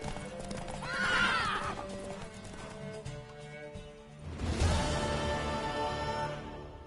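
A horse whinnies loudly and then snorts amid clattering hooves and rushing ambience in The Witcher 3, close and busy, with a second surge of galloping and movement later on.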